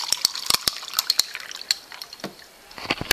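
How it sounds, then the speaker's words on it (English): Ice cubes crack sharply in cold water, a quick scatter of faint, close pops and ticks over a quiet liquid background. "The ice is so cold, it cracks."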